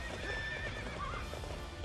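A horse whinnies and gallops in the game Hyrule Warriors, a long neigh over steady hoofbeats and busy game sound, fairly quiet in the mix.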